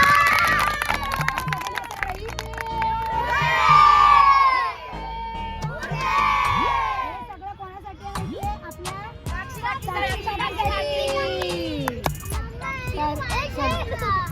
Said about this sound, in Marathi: सगळ्यांनी जेवढा जोर लावून ताकदीने टाळ्या वाजवू शकता त्या काकीला टाळ्या वाजवा